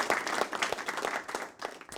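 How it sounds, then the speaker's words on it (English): A round of applause: many hands clapping steadily in a dense crackle for about two seconds, fairly close, with no voices over it. "We'll give you a round of applause too."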